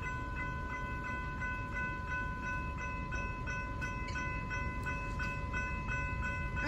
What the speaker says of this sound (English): Okay, that's a pretty quiet bell.